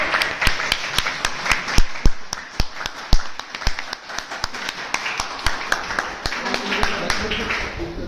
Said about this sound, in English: Yes, please give a huge round of applause.